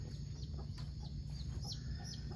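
Soft, close clucking from a fighting-breed hen with faint high cheeps of chicks mixed in, continuous over a steady low background hum, as they are put into a chicken house.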